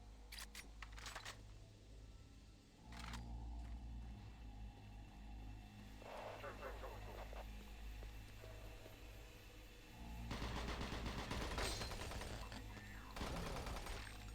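Gunfire in DOOM 3, a faint scatter of sharp shots over a steady low hum, with later clusters of rapid firing partly buried in the game's ambient drone.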